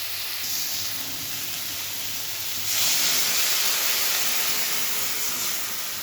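Water hits a hot pan of fried pointed gourd, and the steady hiss of steam jumps louder partway through, then settles into a sustained close sizzle with no voices.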